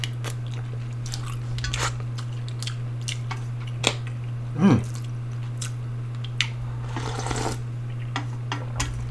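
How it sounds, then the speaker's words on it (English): Close, quiet chewing of scallop with gritty shell or sand bits, with scattered soft crunches and wet squishes over a steady low electrical hum, and no talking. "Those are definitely shells, definitely from the scallop."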